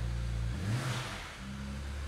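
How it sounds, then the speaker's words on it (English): A car engine revs up and settles back to idle after a powertrain control module upgrade, one brief rise in pitch heard close and alone. "Let's start the engine."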